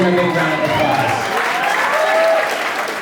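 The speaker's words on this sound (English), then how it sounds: "Give him a big round of" Wedding guests break into sustained applause for the best man during the reception speeches, a loud, dense clapping that fills the room steadily from start to finish.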